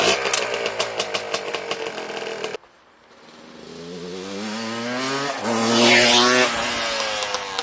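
A Yamaha Blaster ATV engine starts up and revs with a rising buzzy two-stroke whine, loud and close, after an earlier rhythmic mechanical clatter cuts out into a brief silence.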